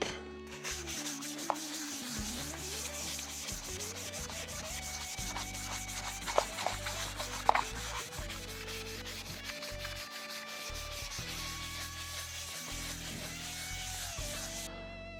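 Hand sanding of a painted Gibson SG guitar body with 400-grit paper makes soft, close, repeated rubbing strokes in a steady rhythm, with a few faint tonal hums in the background.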